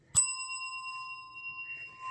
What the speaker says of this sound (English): Are you going to ring the bell for that finisher?